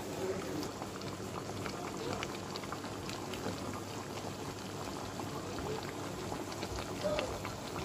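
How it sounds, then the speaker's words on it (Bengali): Beef pieces frying in hot oil without spices for a curry, a steady, dense bubbling sizzle that holds at an even level throughout with no pauses. "মাংসটা 2 মিনিট মতো এই তেলে আমি ভেজে নেব"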